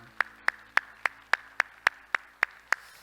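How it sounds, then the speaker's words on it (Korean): Congregation at a church service clapping in unison, a series of about eleven sharp, evenly spaced claps at a steady rhythm, crisp and clear against a quiet background. "우리 하나님께 영광의 박수합시다."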